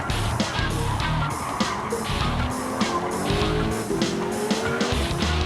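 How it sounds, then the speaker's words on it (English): A Ford Focus race car fitted with a Ford GT LM racing engine roars past at full throttle, with loud, continuous engine noise and gear changes on a racing circuit. Other race cars can be heard in the field. "that Focus is demonstrating that Ford GT LM engine-powered Focus"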